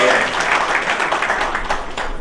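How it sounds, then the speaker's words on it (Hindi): Audience applause at a press club event, a brief burst of dense clapping from a crowd, fairly loud and continuous for about two seconds. "सो इनके लिए जोरदार ताली बजाइए।"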